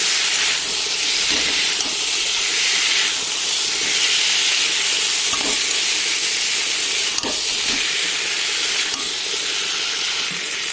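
Spices with meat masala and chili powder fry in a pan, making a loud, continuous hiss with soft pulsing swells and occasional faint knocks from stirring.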